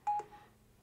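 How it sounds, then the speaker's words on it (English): A Samsung Galaxy Watch 6 sounds its disconnection alert, two short, clear electronic beeps close together, then quiet. "that's the disconnection alert"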